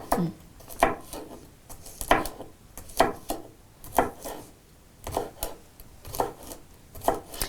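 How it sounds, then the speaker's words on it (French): A knife chopping green beans into small pieces on a board, about a dozen sharp, close, evenly spaced cuts in a steady rhythm, with no talk. "je vais aussi couper les haricots verts en petits morceaux"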